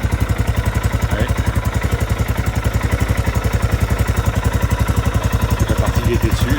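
A Royal Enfield Himalayan 411 with a freshly fitted decat exhaust idles to burn off grease, its engine a steady, close, loud thumping pulse with rapid even beats throughout.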